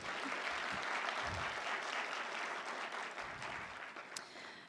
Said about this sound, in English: We could go ahead and clap for her.